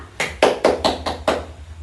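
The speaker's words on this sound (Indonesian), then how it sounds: "kita beri tepuk tangan terlebih dahulu untuk kita semua ya" A class of second-grade children claps in a short burst of about six loud, distinct claps in uneven rhythm, close by in a classroom.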